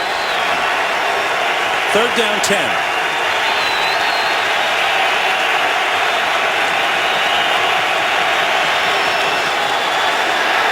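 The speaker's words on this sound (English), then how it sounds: "the crowd is sparked" Giants home crowd in a football stadium keeps up a steady, loud roar of cheering throughout, with a commentator's voice calling the play over the noise.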